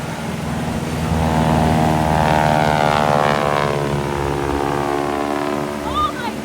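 Propeller airplane flying over a seaside air show, a loud, droning engine that swells as it passes close and then holds steady, with a faint whistle near the end.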